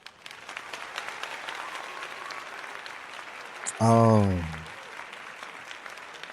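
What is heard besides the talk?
applause sound effect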